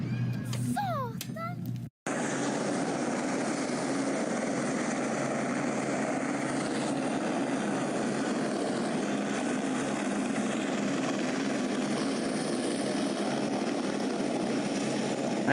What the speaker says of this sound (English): Oh yeah, more rush hour planes.